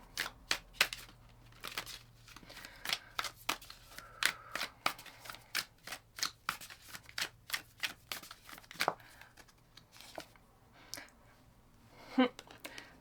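Oracle cards being shuffled by hand, a long run of quick crisp riffling bursts and soft slaps in an irregular rhythm, close up and alone.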